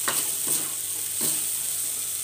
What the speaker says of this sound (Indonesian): Nah, kemudian kita aduk rata.